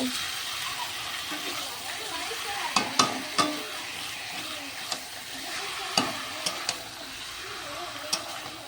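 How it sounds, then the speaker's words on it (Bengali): Fresh chicken pieces stir-fried in a kadai, a soft continuous sizzle punctuated by several sharp clicks of a spatula against the metal pan, close by. "এবার চিকেনটাকে কড়াইয়ের মধ্যে দিয়ে দেব দিয়ে সুন্দর করে কষিয়ে নেব"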